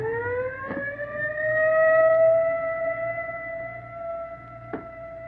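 An ambulance siren in a 1938 radio drama gives a single rising, sustained wail that holds steady and loud, with two short thumps partway through and at the end.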